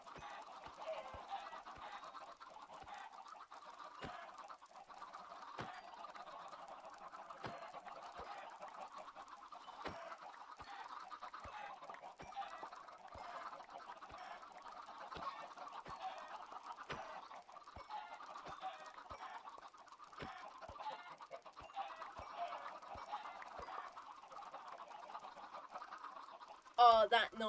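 Chickens cluck in the Minecraft video game, soft and steady throughout with small scattered clicks, a quiet running barnyard loop with a brief louder burst at the very end.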